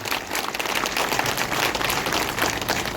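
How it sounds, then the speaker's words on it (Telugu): Dense, continuous clapping from an audience at a political party meeting, loud and sustained with no voices over it. "దాన్ని ఎంతమంది హర్షిస్తున్నారో చప్పట్ల ద్వారా నాకు తెలియజేయాలని చెప్పి కోరుకుంటున్నాను."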